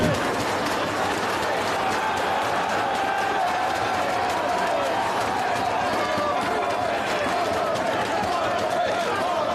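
A Houston wrestling crowd roars and cheers at an indie tag-team match, a loud, continuous wall of crowd noise with clapping, with a commentator talking over it.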